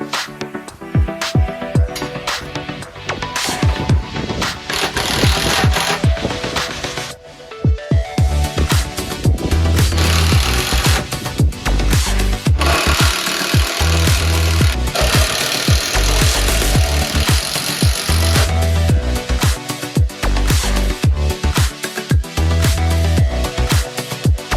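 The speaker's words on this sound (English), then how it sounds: "For the bigger logs I had to use the chainsaw." A chainsaw cuts through large logs held in a rig made from an old bench and scaffolding boards, while stocking a wood store. The engine roars loud and steady throughout, dipping briefly once before revving back up.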